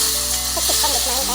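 Raw mango pieces drop into hot oil spiced with mustard seeds, asafoetida, turmeric and fenugreek powder for a sweet and spicy pickle, giving a loud, steady close-up sizzle with faint stirring.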